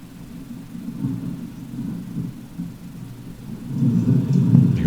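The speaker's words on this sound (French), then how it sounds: "je vais faire un effet avec une tempête plus importante" Storm sound effect being edited in Audacity: a low rolling rumble like thunder and heavy wind, swelling and growing louder toward the end, with no voices.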